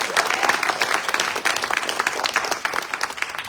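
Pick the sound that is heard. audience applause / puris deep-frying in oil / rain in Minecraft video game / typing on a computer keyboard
audience applause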